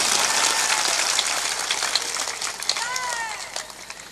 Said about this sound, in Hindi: तालियां जोर से बजाया करो,